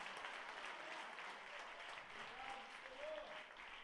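A church congregation at a Sunday celebration service claps for the Lord, a steady dense wash of many hands under a faint murmur of voices.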